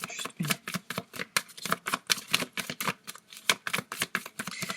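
Playing cards riffle and snap in a quick, steady run of crisp flicks, close and alone with no talk over them.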